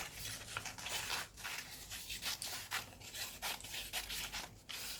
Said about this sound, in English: I'm going to cut 5 strips